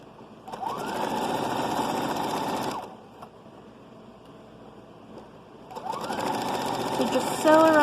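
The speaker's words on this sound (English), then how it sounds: "So just sew around the curves." A sewing machine stitching around the curves of a child's shrug and hat, running in two steady whirring bursts with a quiet pause between, close and moderately loud.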